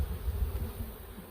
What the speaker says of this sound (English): These bees are tearing me up.